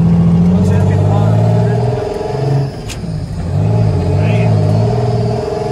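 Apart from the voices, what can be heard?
International truck with Detroit Diesel 6-71 turbo engine driving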